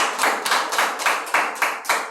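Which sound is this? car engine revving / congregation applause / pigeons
congregation applause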